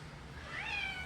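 A young cat meows once indoors in a house, a short rising then falling cry that is fairly close and clear over quiet room noise.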